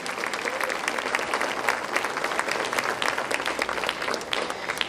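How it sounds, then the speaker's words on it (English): A room of yoga teachers applauding themselves at a Houston appreciation event, continuous crowd clapping with brief louder peaks, steady and fairly near throughout. "Give yourself a round of applause."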